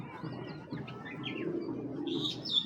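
Imported Chinese female pigeon cooing softly, low throaty coos with a few faint chirps and a brief flutter near the end, quiet and close.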